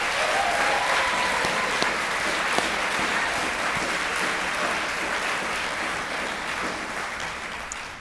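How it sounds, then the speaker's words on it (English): An audience at a college convocation applauds steadily for about eight seconds, a dense even wash of many hands clapping that slowly tapers off toward the end. "Let's give them a big round of applause."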